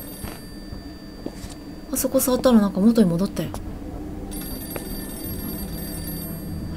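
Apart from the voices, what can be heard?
telephone ringing in horror video game April 24th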